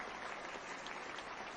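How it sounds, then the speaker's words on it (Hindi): An audience gives enthusiastic applause for a teacher at an event in Lakhisarai, Bihar, a dense, steady clapping that stays loud through the short stretch with no talking. "उनके लिए जोरदार ताली।"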